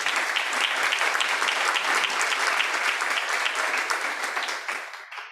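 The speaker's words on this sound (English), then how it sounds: "Give them a round of applause." Audience at a college luncheon breaks into strong, even applause, a dense wash of clapping that holds for several seconds and then fades quickly at the end.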